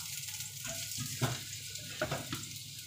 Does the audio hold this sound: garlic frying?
yes